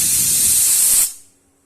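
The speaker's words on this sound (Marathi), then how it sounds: "हे बघू शकता तुम्ही 3 शिट्ट्या झालेल्या आहेत कुकरच्या." A pressure cooker of potatoes vents steam after three whistles: a loud, close, steady hiss for about a second that then cuts off into near silence.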